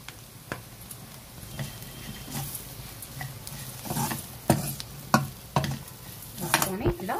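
Ponnaganti leaves and moong dal frying in a pan as turmeric is stirred in, a soft sizzle broken by scattered spatula scrapes and knocks that grow louder toward the end, no clear speech.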